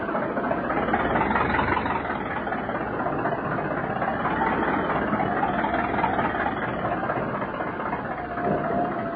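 Ship engines run at high power, a dense, steady, rumbling roar with churning noise that stays loud and unbroken from start to end, no voices over it.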